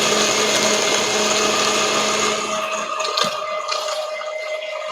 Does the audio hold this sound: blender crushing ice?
yes